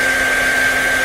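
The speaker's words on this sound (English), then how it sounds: "Now we're just going to use a normal hairdryer, nice and simple." A normal hairdryer blows steadily to dry wall plaster on a small drywall hole repair, a loud, close, continuous whirring hum.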